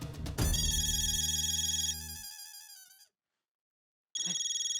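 A mobile phone ringtone plays loud and close as a bright repeating electronic melody, stops after about three seconds, then starts again after a short silence.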